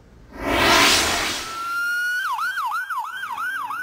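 A Centronia ambulance siren wails in a steady rising-and-falling cycle that starts after a burst of rushing broadband noise, staying loud and close for several repetitions with no one speaking.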